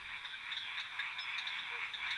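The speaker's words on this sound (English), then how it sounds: "The Mantadia are one of the most diverse groups of frogs in Madagascar." Mantidactylus frogs of Madagascar call in a dense, faint chorus of rapid clicking and chirping notes, steady and continuous with no voices.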